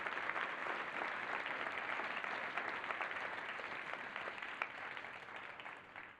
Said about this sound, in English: ask the audience to give a round of applause to the amazing technical staff producing this